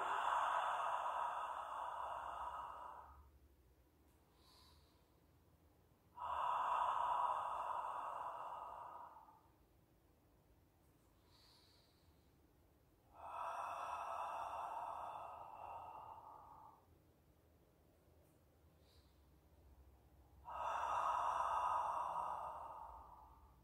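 An instructor breathes slowly and audibly through a Pilates exercise, four long airy breaths spaced several seconds apart with quiet gaps between, close and soft, no talking.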